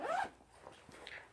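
A pencil bag's zipper is pulled open in one quick, close rasping sweep, followed by faint handling rustles.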